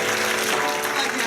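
An audience in a theater at a live comedy show applauds, a dense wash of clapping filling the room for a brief moment.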